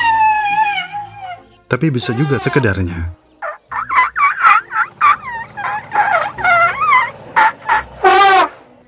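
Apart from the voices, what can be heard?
elephant trumpeting through its trunk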